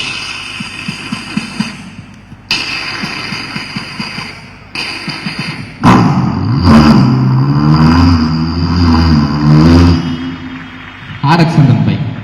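A performer mimics a motorbike engine with the voice, short sputtering bursts first, then a sustained throaty revving drone, loud and close on a school arts festival mimicry stage.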